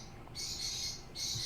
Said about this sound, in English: the birds love it too. You can hear them in the background.